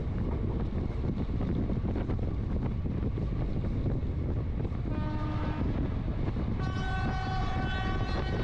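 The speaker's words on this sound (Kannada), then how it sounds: "ಚನ್ನಪಟ್ಟಣ ಔಟರಲ್ಲಿ ರಾಜ್ಯ ರಾಣಿ ಎಕ್ಸ್ಪ್ರೆಸ್ ಕ್ರಾಸಿಂಗ್ ಆಗ್ತಿದೆ." The Rajya Rani Express crosses close by near Channapatna, with heavy rolling rumble and wind roar. Two sustained horn blasts sound in the second half.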